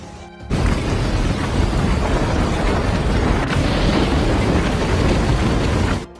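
A violent typhoon lashes the area with roaring wind and heavy rain, a loud, dense, continuous broadband rush that starts abruptly and holds at full force for several seconds.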